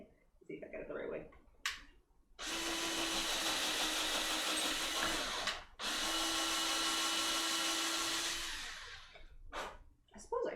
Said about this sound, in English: Back to drilling.